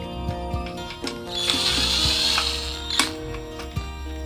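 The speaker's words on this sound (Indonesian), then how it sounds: "selanjutnya kita pasang paku sekrup atau baut sekrup seperti ini ukuran 2 cm" Screws of about 2 cm being driven with a power driver to fit a PVC ceiling, with short ratcheting whirs, a sustained high whine in the middle and scattered clicks and taps, close by with no talking.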